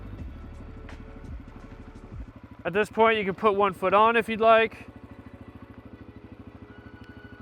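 A dirt bike engine idles steadily with a low, even putter while the bike rolls slowly, close by, as someone speaks over it in the middle.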